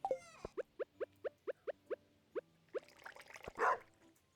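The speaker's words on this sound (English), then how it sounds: "Yeah, so loud this dog." A single dog barks loudly and close by in a quick, evenly spaced run of about a dozen sharp barks. A few quieter, rougher sounds and a louder burst follow at the end.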